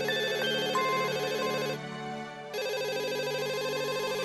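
A telephone rings indoors in a household, a steady electronic ringtone repeating loudly, cutting out briefly midway before resuming; no talking over it.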